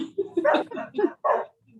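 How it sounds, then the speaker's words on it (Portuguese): Several dogs barking at home in a rapid, uneven burst of close, loud barks and yips, with short gaps between them and no talk. "A cachorrada aqui em casa começou"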